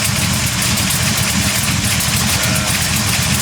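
A 1970 Chevelle V8 idling as it warms up, a loud, steady, throaty rumble with an even pulsing beat, close by throughout.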